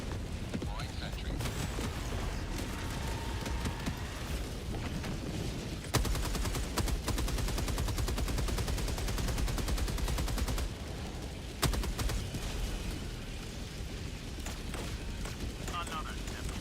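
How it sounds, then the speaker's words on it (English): Sentry turret firing in a video game, a rapid mechanical stream of automatic shots running for several seconds, set against a constant backdrop of battle noise and explosions. "I think that's his turret."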